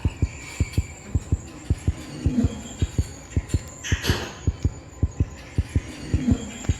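A video game heartbeat sound effect in Granny 3 pulses steadily throughout, each beat a deep low thump, with a soft ambient hum and a brief swelling whoosh midway.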